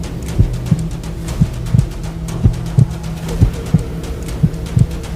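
Heartbeat sound effect in a spooky narrated story, a loud, deep, muffled lub-dub thumping in a steady rhythm, roughly a dozen beats over a low droning hum with no voice.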